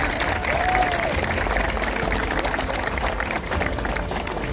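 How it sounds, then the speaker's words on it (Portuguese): At a baptism service, the congregation breaks into loud, sustained clapping that carries on throughout, a few voices mixing into the crowd noise. "Você pode aplaudir isso?"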